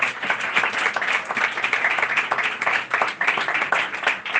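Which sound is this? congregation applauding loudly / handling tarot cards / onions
congregation applauding loudly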